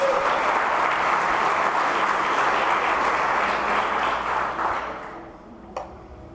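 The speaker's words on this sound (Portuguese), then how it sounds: "Aplauda Jesus, aplauda o Messias." A church congregation applauds during a service, a dense, loud wash of clapping that holds steady, then fades out toward the end, followed by a single faint knock.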